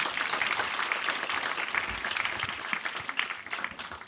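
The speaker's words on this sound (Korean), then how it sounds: "다시 한번 큰 박수 부탁드립니다" A crowd claps steadily for several seconds at an agricultural awards and case-sharing event, dense applause filling the room without pause.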